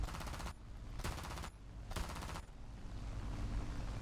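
Aircraft machine guns fire in a War Thunder dogfight between a P-40 and a Corsair, rapid bursts in three distinct volleys over a steady engine drone, no voices.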